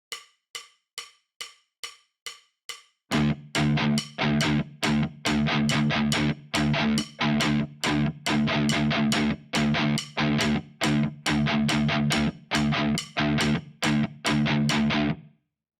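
A ticking click track counts in alone for about three seconds, then a thick distorted palm-muted electric guitar riff in 7/8 joins and chugs in tight repeating stabs over the clicks, loud and close.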